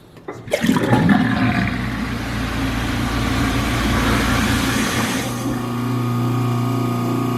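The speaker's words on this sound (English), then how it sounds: "We'll fill the sink the second time in order to run it with the garbage disposal working." A newly installed kitchen garbage disposal starts up with water running in the sink, a loud steady whirring rush that drops to a lower hum near the end.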